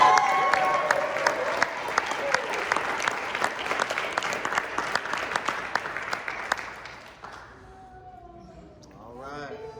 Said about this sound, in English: I'm gonna give myself a round of applause.